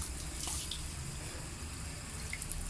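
Steady running water splashing and rushing as a carpet is rinsed on a balcony, a continuous wet hiss with no voices.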